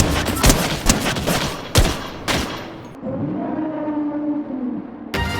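Rapid Fortnite gunfire in a lava-floor challenge match, loud bursts of shots cracking in quick succession, then a quieter stretch with a rising whine-like tone before another shot cuts in.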